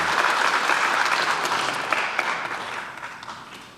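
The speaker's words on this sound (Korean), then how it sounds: "길게 늘어서 박수치는 더불어민주당 의원들 사이를 이재명 대통령이 지나갑니다." Lawmakers of the Democratic Party lined up in the National Assembly plenary chamber clap as the president passes, a dense, steady burst of applause that gradually fades toward the end.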